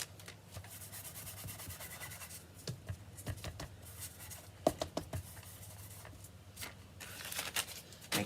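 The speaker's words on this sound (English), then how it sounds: "I'm going to take my embossing buddy" Embossing buddy anti-static pouch rubbed over paper, giving soft, steady brushing and scuffing strokes with a few light taps, faint and close, no talk.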